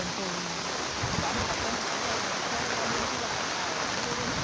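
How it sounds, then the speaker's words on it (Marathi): Steady heavy rain pours down in a flooded farm field beside a river in a Konkan village, a dense continuous hiss with watery rushing underneath and no pauses. "पाऊस थांबतच नाही"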